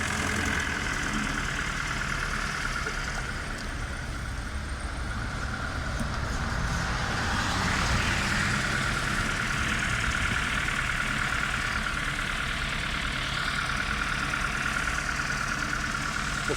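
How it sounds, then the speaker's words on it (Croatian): A bus engine idles nearby at an outdoor ice-hole fishing spot in Obrenovac, a steady low rumble that holds at an even level for the whole stretch with no voices over it. "Pazi autobuse."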